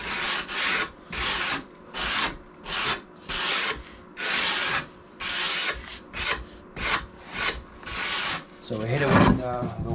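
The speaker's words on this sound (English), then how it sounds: "when we sand this, we sand it on an angle" Wood is hand-sanded with sandpaper along a seam of a wooden entertainment center, worked at an angle. About a dozen close, even rasping strokes repeat in a regular back-and-forth rhythm, ending in a brief scuffle of handling.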